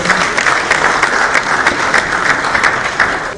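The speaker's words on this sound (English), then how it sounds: "Please a round of applause for her." A large conference audience applauds a speaker, a broad, steady wash of many hands clapping at once, close and fairly loud, with no talk over it.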